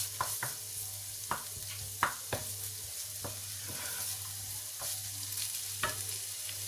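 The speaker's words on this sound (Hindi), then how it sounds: "प्याज को भी हल्का सा सौते करेंगे।" Onions sautéing in a pan for vegetable spring rolls. A steady close sizzle runs throughout, broken by repeated sharp clicks of a spoon stirring against the pan.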